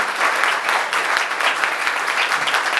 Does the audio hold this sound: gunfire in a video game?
no